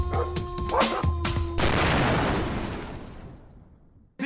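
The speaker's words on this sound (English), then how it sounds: "I don't like this bit because of the dogs barking." Several dogs bark in a burst of sharp, overlapping yaps during a TV episode, followed by a loud crashing rumble that slowly fades.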